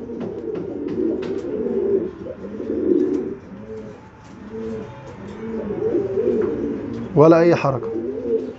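Domestic pigeon cooing in soft, repeated low phrases close by, with a brief louder flurry near the end, while someone talks over much of it.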